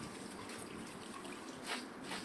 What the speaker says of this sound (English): Now simply rinse the chickpeas with plain water.